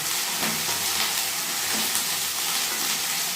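Ingredients for dalia fry in a pan with a continuous, dense sizzle and hiss that stays loud and even throughout, with faint stirring scrapes and no talking.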